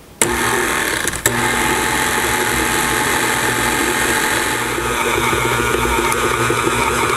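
A stand mixer with a paddle attachment works shortbread dough, switching on with a click and then holding a loud, steady motor whine that continues to the end.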